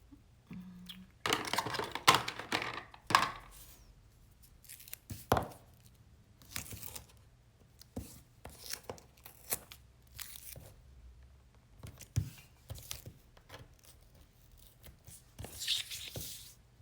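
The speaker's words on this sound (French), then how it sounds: "Il se déchire à la main." Double-sided Lily Pot de Colle tape torn by hand while making a craft-paper travel album, a run of short, dry ripping and crinkling bursts at close range, louder near the start and then scattered more quietly.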